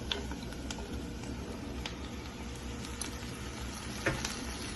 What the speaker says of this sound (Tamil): நல்ல மஷ்ரூமை பட்டரில் வதக்கி விட்டுக்கலாங்க